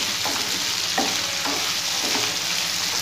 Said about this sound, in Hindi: और अब प्याज टमाटर लहसुन अदरक मिर्ची को हम हल्का सॉफ्ट होने तक पकाएंगे।